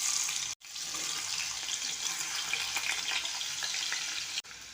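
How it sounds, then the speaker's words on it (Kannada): Peeled, cut potato pieces frying in hot oil for a mint rice dish, giving a steady, close sizzling hiss that runs without a break except for two brief dropouts, with no talking. "ಎರಡು ನಿಮಿಷ ಎಣ್ಣೆಯಲ್ಲಿ ಫ್ರೈ ಮಾಡ್ಕೋತಾ ಇದ್ದೀನಿ."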